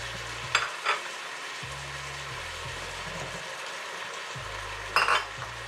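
Eggplant and vegetables for pinakbet being stirred in a hot pan: a steady sizzle with a few scraping utensil strokes near the start and another near the end, close and moderately loud, with no talking.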